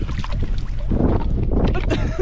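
A small outrigger boat (bangka) moving on open water, a steady broadband wash of engine and water noise with wind buffeting the microphone, close and continuous, with faint voices in the background.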